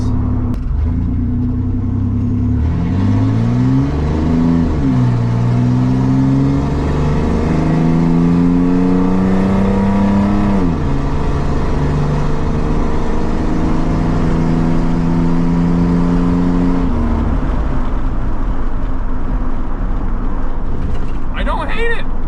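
An S10 pickup with a cheap side-exit exhaust accelerates through several gears, its deep, low engine drone rising and falling with each shift. The engine stays loud and close throughout, with a brief rattle near the end.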